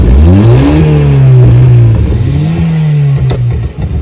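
A turbocharged 1994 Mazda Miata convertible engine revs loudly and close, its pitch climbing, dropping, then rising again in two strong pulls before settling, with no talking over it.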